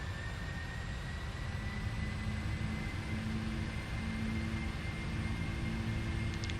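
Boeing 747 jet engines at takeoff thrust in the Prepar3D flight simulator, a steady broadband roar with a faint high whine, holding constant and loud throughout, no speech.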